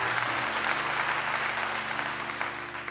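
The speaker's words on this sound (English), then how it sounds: "Round of applause for that." Audience applause filling the room, a steady dense clatter of many clapping hands that holds for the whole stretch and slowly fades toward the end, with a low hum beneath.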